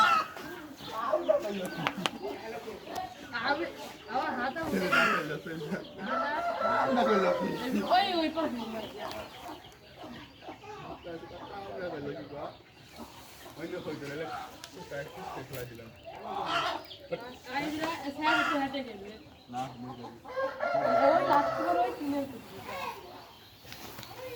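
Chickens clucking and a rooster calling near a garden by a gate, intermittent bursts of fowl sounds of moderate loudness mixed with people talking nearby.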